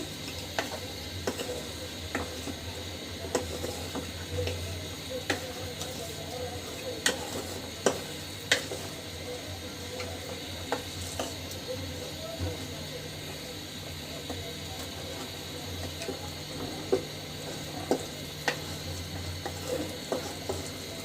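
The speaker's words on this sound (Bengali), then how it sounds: "মশলা এবং মাছটা কিন্তু খুব ভালোভাবে মাখিয়ে নিতে হবে।" Fish being mixed by hand with spices for a rustic village-style Bengali curry, giving soft, wet squelching and rubbing with scattered light clicks against a bowl, steady and close, with no talking.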